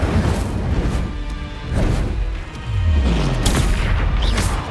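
Incendio fire spell cast during combat in the video game Hogwarts Legacy: loud booming bursts and roaring whooshes over a dense, continuous layer of battle noise, with a falling swoosh midway.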